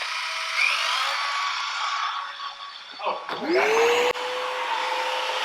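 A DeWalt cordless drywall sander with dust extractor whines and hums steadily on a wall, then spins down and restarts with a rising pitch; a brief exclamation is heard.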